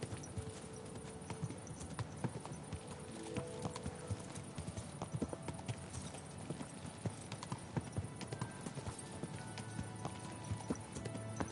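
Horse hooves clip-clop steadily on the ground in the medieval role-playing game Kingdom Come: Deliverance II, with a repeated, even walking rhythm at moderate loudness and no talking over it.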